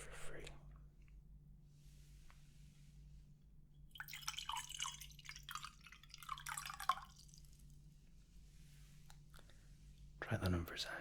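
Water is poured into a glass in a quiet ASMR measuring roleplay, a soft close trickle and splash spread over several seconds, with faint whispering and small clicks around it.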